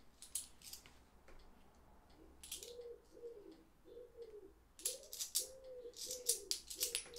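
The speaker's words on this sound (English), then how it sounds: "Pigeons are enjoying the hunt anyway." Pigeons coo in a soft, repeated low rhythmic call, faint and slightly distant, with metallic clinks of coins being handled nearby.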